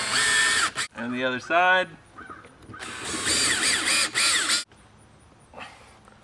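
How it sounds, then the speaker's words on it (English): A power drill drives exterior screws to fix a replacement outdoor spigot (hose bibb, silcock) in place. Two loud whirring bursts are separated by a short spoken remark. "we're going to put some screws on it to keep it from turning"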